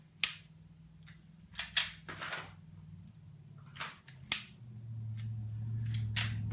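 Handgun dry fire draws with trigger clicks: several sharp, separate clicks and snaps at an irregular pace, fairly near, over a low steady hum, with no talk.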